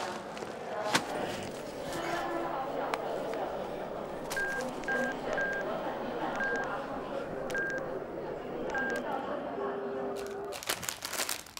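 An incoming telephone call sounds as a series of short, evenly spaced electronic tones repeating over a quiet room background, with rustling and a few sharp clicks around them.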